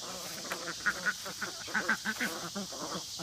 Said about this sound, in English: So you can see we have two different breeds of ducks.